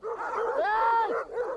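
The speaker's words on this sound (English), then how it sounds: "Oh, wild dogs." Wild dogs give a short, close, loud yelping bark with a rising whine, heard alone for a moment.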